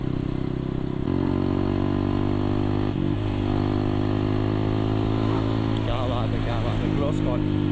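A motorcycle engine drones steadily during a bike ride on a cool day, a loud, close, continuous hum with slight shifts in pitch, plus some clatter and wind buffeting toward the end.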